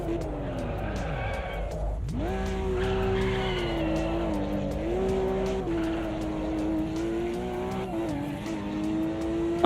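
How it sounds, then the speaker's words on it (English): A Porsche race car in Automobilista 2 heard from outside, engine droning steadily with rising and falling revs and some tire squeal, loud and sustained throughout. "What does this Porsche sound like from the outside?"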